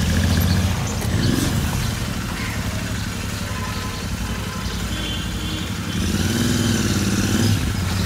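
A modified, loud parallel-twin motorcycle exhaust rumbles steadily at close range, holding a throaty idle throughout with slight swells in revving near the start and end.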